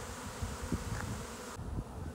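Honey bees, worker bees, fly around a hive while a nuc is being installed, making a faint, steady buzzing drone that continues throughout.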